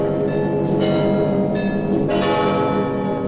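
Church bells of the Moscow Kremlin pealing together, several bells layered into a resonant, ringing chime with sustained overtones, loud and continuous, with new strikes entering every second or so.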